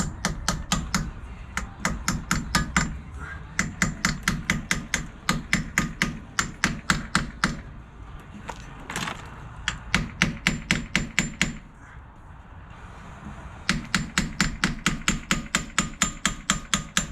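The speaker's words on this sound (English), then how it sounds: "I'm going to press this one in there so it's easier to hold on to. And by press, I mean hammer." Metal suspension bushing being hammered into place on a Ford MN12 Thunderbird, loud rapid bursts of sharp metallic hammer strikes in quick rhythmic runs separated by short pauses.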